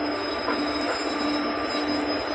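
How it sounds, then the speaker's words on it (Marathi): A train engine rumbles steadily nearby on a trek route near Khandala, with a continuous metallic wheel squeal ringing over the noise. "इथं रेल्वे मेल दिसते आपल्याला इंजिन"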